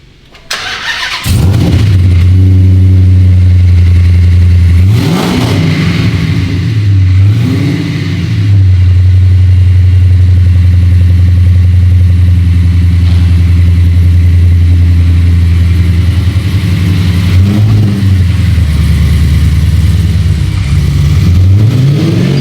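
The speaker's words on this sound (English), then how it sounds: "had our little discussion with Mr. Schultz, he's going to jump in his Challenger here, freshly done by Petty's Garage here" A Dodge Challenger with a freshly built custom 6.1 HEMI cranks and fires up, then rumbles loudly with several blips of the throttle and revs rising and falling as it pulls away, heard close and alone without talk.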